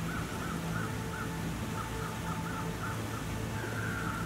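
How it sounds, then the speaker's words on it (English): Crows caw faintly in The Long Dark video game, a series of distant calls repeating over a steady hiss of wind-like ambience. "Do you see the crows that are down there"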